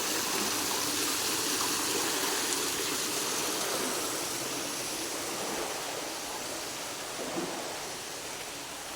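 Water pouring continuously through a production machine, a broad steady rushing hiss close by that eases slightly toward the end, with no talk.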